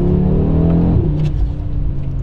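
Audi RS3 accelerating hard, a loud close engine roar climbing in pitch before shifting and easing into a lower rumble as it pulls away.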